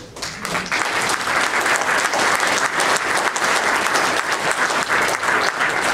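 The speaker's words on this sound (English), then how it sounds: "the little round of applause that you just got is from the people who you were meant to please with this unrated cut" Steady, loud audience applause fills the room at a horror film festival panel for an I Spit on Your Grave remake, dense clapping sustained throughout without speech.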